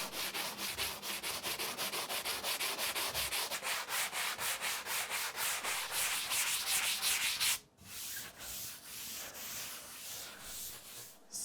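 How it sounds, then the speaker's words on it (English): Rhythmic back-and-forth sanding scrapes on a dried drywall patch, steady and close, pausing briefly before resuming at a slower pace. "Now we can just sand it out."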